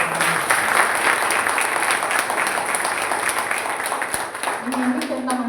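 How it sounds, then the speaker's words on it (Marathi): An audience at a panel discussion breaks into steady, even applause that fills the hall for several seconds, with a voice starting up briefly near the end. "एकदा जोरदार टाळ्या वाजवा."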